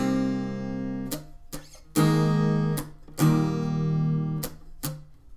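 Guitar strums the verse of a song, ringing chords cut by sharp muted strokes in an uneven pattern, close and clear with no talking.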